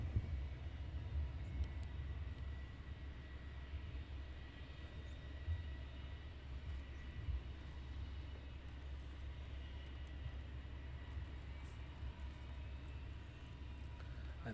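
An EasyJet airliner departs Luton Airport in fog, a steady low rumble of jet engines in the distance that persists evenly without voices.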